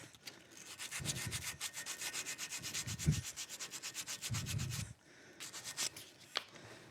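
A metal edge is deburred by hand with rapid, rhythmic rasping strokes, a steady scraping back-and-forth that pauses briefly before resuming, close and moderately loud.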